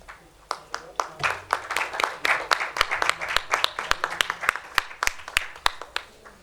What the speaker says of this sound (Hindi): तालियां बजाते रहे स्टूडेंट, आपको हर स्टूडेंट में ताली बजानी है।